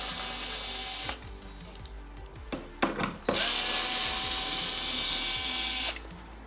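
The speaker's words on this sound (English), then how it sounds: "We have an electric screwdriver, but a manual is just fine." An electric screwdriver whirs in short bursts close up while removing T20 headlight screws, with clicks and handling knocks between the runs.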